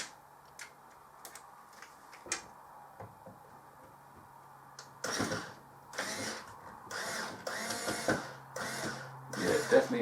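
A power drill backs screws out of an old arcade cabinet in a series of short, close whirring bursts with pauses between them, starting after a few scattered quiet ticks and knocks.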